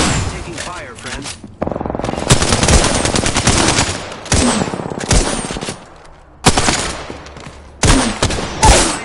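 Bursts of automatic gunfire in the Apex Legends shooter, loud and close, firing in several rapid volleys with short gaps of quiet between them, with voices heard alongside.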